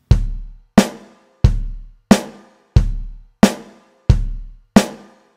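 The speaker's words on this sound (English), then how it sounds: "so while you hear that drum beat" Drum beat alternating kick drum and snare drum, eight evenly spaced, punchy hits at a steady tempo, each decaying before the next, played alone without voices.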